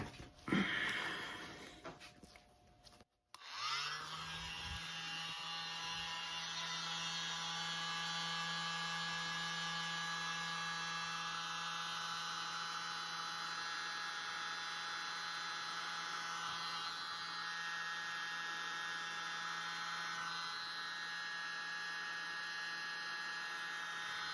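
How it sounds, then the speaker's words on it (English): A mini blower runs steadily over an acrylic paint pour, starting abruptly after a few seconds of quiet room noise and then holding a constant, close airy whoosh with a low motor hum for the rest of the clip. "I'm going to use my mini blower"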